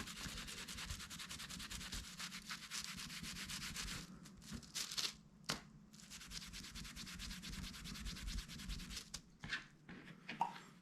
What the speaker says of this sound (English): once it's dry, sometimes you may want to buff it with some, I use fleece